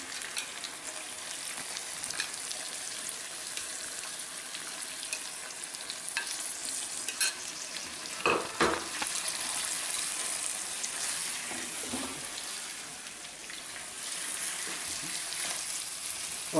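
About a kilo of chicken with a few spoonfuls of yogurt sizzles in a pot for chicken korma. A steady close frying hiss carries occasional scraping stirs and clinks of a spoon, and no one talks.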